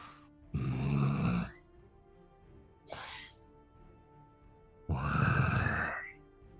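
A person mimics a low, deep guttural creature breathing, larger than an ogre, in three heavy drawn-out rasping breaths separated by short pauses, close and loud.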